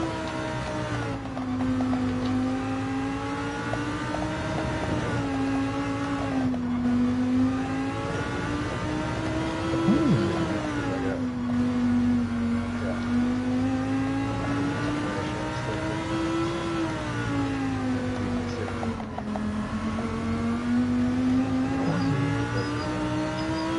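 A Scirocco race car engine drones steadily through a racing game run, the pitch rising and falling in long smooth waves as it revs through gear changes, loud and continuous with no talk.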